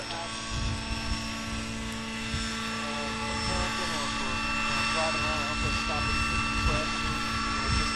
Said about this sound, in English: He will then go back to the central helipad, executing a 180-degree pirouette.